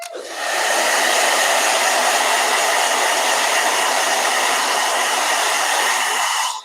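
A blow dryer runs steadily to dry a watercolor painting, a loud continuous broadband whoosh that starts abruptly, holds for several seconds, and cuts off at the end with no voices.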